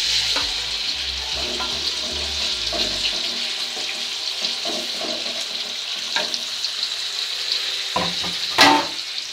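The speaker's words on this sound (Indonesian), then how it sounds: "Kita tumis." Spice paste sizzles as it sautés in hot oil for a papaya vegetable dish, a steady bright hiss with a few stirring clatters and a louder burst near the end.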